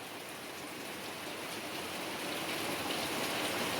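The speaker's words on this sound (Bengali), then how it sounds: "আজকের বৃষ্টিটাও সেরকম হচ্ছে, কুলকুল কুলকুল করে।" Heavy rain pours steadily outside a house with a damaged, leaking roof: a dense, even wash of falling water that grows slightly louder toward the end, with no voices.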